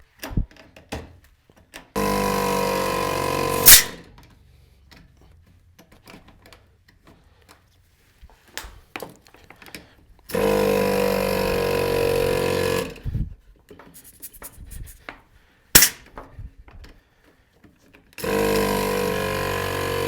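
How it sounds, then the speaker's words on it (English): An air compressor mounted on a Jeep runs in loud bursts of steady mechanical chugging, starting and stopping several times with quiet gaps and faint clicks between the runs. "fire up the compressor on the Jeep"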